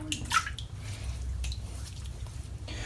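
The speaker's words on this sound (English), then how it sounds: "Put a bit of water on" Water splashed onto the head before another lather pass in a head shave with a Rocnel Elite Titanium safety razor, a brief wet splash and drip followed by soft sloshing and trickling, close up with no speech.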